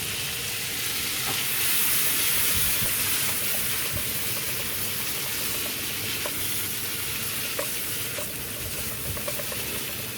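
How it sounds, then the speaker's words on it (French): Bacon lardons sizzle steadily in a hot pan, a dense continuous crackle and spit with occasional small pops, close and even in level throughout, no voices. "les lardons, nous allons les faire cuire pour qu'ils soient bien dorés"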